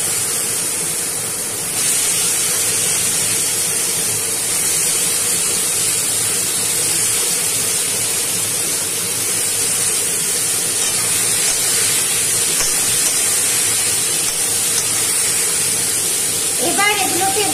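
Ridge gourd pieces sizzle in a hot pan with turmeric and salt, giving a loud, steady frying hiss that runs throughout, with a small bubbling flare near the end.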